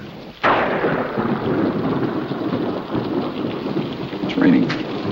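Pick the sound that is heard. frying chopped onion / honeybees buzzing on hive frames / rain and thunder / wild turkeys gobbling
rain and thunder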